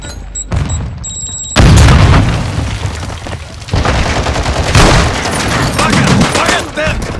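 Claymore blast and gunfire in Call of Duty: Modern Warfare II, a loud burst hitting after a brief lull, then dense close-range shooting and booms that continue throughout, with voices calling out over the din.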